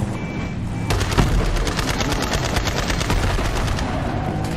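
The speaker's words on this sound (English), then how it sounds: "Oh, pretty quick, just machine gun." Rapid machine gun fire from a vehicle in Borderlands 3, a dense unbroken stream of loud close shots with no talk over it.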